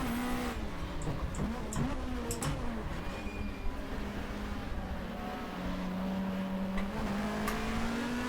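A 1990s BTCC touring car engine in the GTR2 racing game, a steady droning whine that rises and falls with gear changes, with faint tyre noise and no talk.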